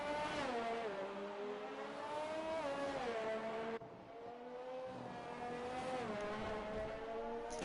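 A Formula 1 race car in a video game at the Canadian Grand Prix, its high engine whine holding steady, then dipping and rising again as the car slides through a corner, loud and continuous with no talk.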